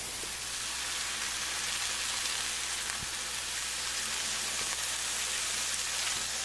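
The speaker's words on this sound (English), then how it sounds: "So I'm just frying up patties this size to make sandwiches out of." Meat patties fry in a pan with a continuous loud sizzle and crackle, a dense hiss interrupted by occasional small pops, steady throughout with no voices.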